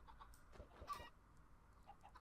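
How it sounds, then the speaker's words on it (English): Chickens cluck in the video game Minecraft Sky Factory, a few short soft clucks and squawks close by against a quiet background. "Now I have way too many chickens."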